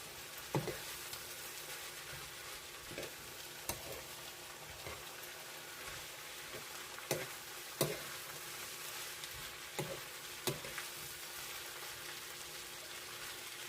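Squash and pork stir-frying in a pan, a steady soft sizzle running throughout with occasional sharper clinks and scrapes of stirring, fairly quiet and without talk.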